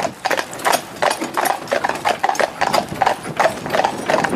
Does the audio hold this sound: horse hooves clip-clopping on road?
yes